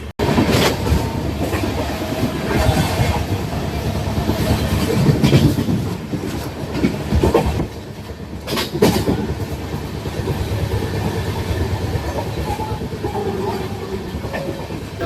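An LHB-coach Vikrama Simhapuri Amaravathi Superfast Express runs near Vijayawada, a steady loud rolling rumble with rhythmic clickety-clack and a few sharp bursts from inside the moving train.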